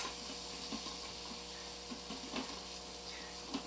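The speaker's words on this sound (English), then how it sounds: "The butter will foam up, and we will add some shallots." Butter foams and sizzles in an Instant Pot, a steady close hiss with small crackles and the occasional scrape of a spoon pushing it around.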